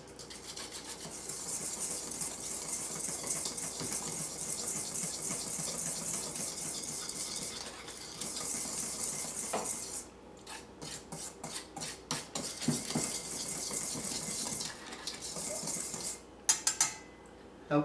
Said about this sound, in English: I'm just taking one of my whisks, whisk this all together so that way the dry ingredients are evenly dispersed